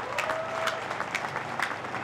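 Applause from an audience at a school-for-the-blind festival finale, continuous clapping at moderate loudness with a few sharper individual claps over the crowd.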